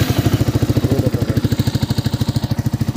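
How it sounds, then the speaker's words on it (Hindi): A Yamaha R15 V3 fitted with an Akrapovic exhaust and dB killer idles steadily up close, its low, even exhaust pulses thumping in a fast regular rhythm with faint clatter on top. "इसमें भी देखो भाई डीबी किलर लगा दिया है हमने इधर, और अभी ये नॉर्मल साउंड करेगी"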